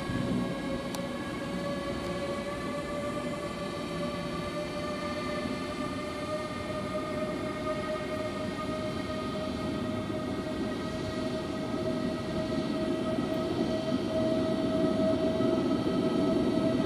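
A TX Logistik freight locomotive pulls out of the yard at Kufstein, its steady electric whine rising through several sustained tones over a continuous rumble, loud and close and growing slightly toward the end, with no talk.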